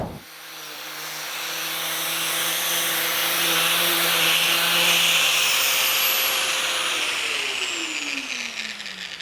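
A high-pitched Arbortech Turbo Scaper rotary tool whirs steadily as it grinds and shapes wood for a bench, then its pitch drops as it spins down near the end.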